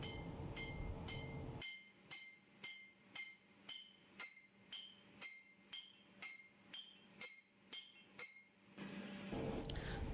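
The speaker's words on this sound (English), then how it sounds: "Slightly tap the coupling till it fully goes and sits on the shaft properly." A coupling is tapped onto a centrifugal pump shaft during reassembly: about fifteen light, ringing metallic taps fall in a steady rhythm, close and fairly quiet, framed by louder background noise at the start and end.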